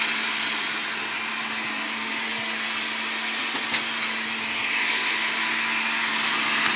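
A blender grinds cinnamon for a smoothie, running as a steady, loud whir with a constant motor hum throughout and a slight rise in intensity toward the end.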